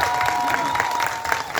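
An audience at a Gujarati film event applauds the producer, brisk close clapping with a few sharp individual claps standing out, tapering slightly at the end.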